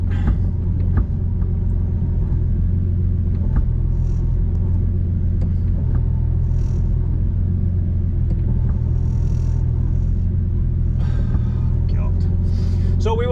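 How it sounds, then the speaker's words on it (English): A Nissan 350Z with a slipping clutch at a sprint event, its engine a steady low droning rumble heard from inside the car, continuous and fairly loud with faint scattered knocks and no clear revving. "I think the clutch is slipping and I think it's on its last legs"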